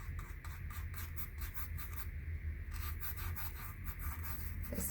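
A scrubber works gouache paint on a tiger painting, making rapid, rhythmic rubbing and scratching strokes up close that go on without pause, with no voices.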